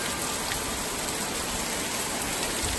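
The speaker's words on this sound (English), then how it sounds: "But the rain is here." Steady rain on a hay farm, falling hard and sideways as a dense, even hiss with no break, no speech and no other sounds.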